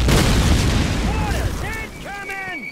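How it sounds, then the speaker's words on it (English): Mortar shells burst in World War II street fighting in Call of Duty, opening with a loud, deep boom whose rumble slowly fades while shouting voices rise over the tail. "Mortars! Incoming!"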